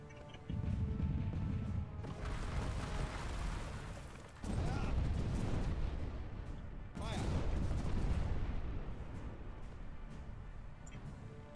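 Ship cannons fire in the pirate video game Buccaneers as long rumbling booming volleys, three heavy roaring stretches with brief gaps between them, while people talk over the noise.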